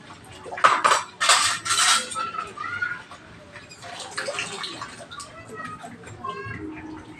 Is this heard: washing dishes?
yes